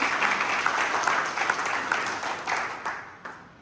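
An audience claps for themselves at a motivational talk, a dense, steady patter of many hands that fades out toward the end.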